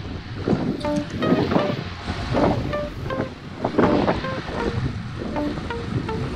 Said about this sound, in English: We had a southeasterly wind this Saturday.